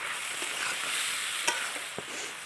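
Taro with shrimp and spices cooking in a pan gives a steady, close sizzle with a couple of sharp utensil knocks partway through, and no one talks.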